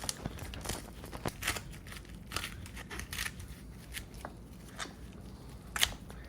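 Kitchen shears crunch through a raw chicken's backbone, cutting along both sides of the spine in a series of sharp, close snips and cracks with no talking.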